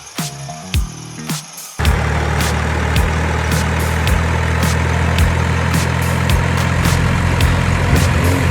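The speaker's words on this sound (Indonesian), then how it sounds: "Haul Truck ini biasanya digunakan di pertambangan" A large mining haul truck's heavy diesel engine starts up and idles loud and steady with a deep low rumble, after a brief quieter lead-in.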